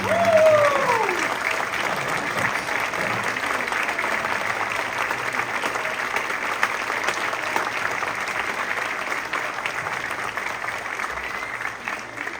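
A concert audience at a high school fall concert applauds band staff, a broad, even wash of clapping that holds for about twelve seconds, with a brief voice near the start.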